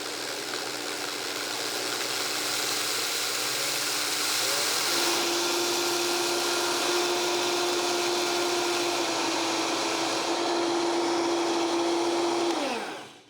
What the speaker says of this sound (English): We're gonna let it grind up until it's a fine powder.